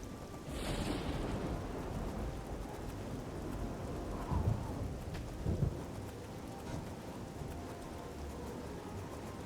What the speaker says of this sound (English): we're getting noise, like rain noises, but no actual rain particle effects